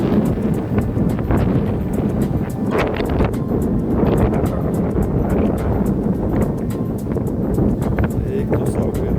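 Strong wind blowing outdoors in the Pamarys lagoon area of Lithuania, a loud continuous rumble and buffeting against the microphone that drowns out most other sound, with occasional voices underneath.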